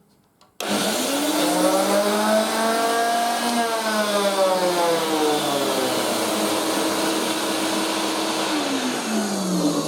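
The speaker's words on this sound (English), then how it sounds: "So switch the router on." An Ozito router mounted in a router table and a connected shop vacuum start together after a brief quiet moment, spinning up into a loud, steady whine with strong harmonic tones that dip and recover slightly, continuing unbroken to the end.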